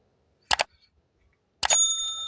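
Subscribe bell icon sound effect: two bright metallic dings, each a quick double strike, the second ringing out with a sustained shimmering tail, heard alone without talk.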